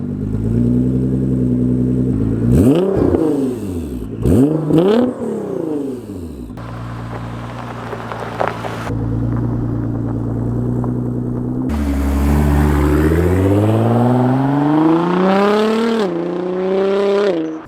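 Nissan GTR tuned to 767 bhp revving hard and accelerating, engine note climbing through gears in loud sustained sweeps with brief lifts between shifts, heard alone from inside the car.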